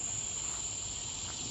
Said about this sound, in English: that swamp cicada sounds really close